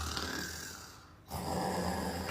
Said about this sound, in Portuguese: ela tá só roncando